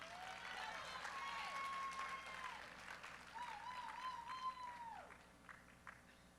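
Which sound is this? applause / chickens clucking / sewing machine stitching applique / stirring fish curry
applause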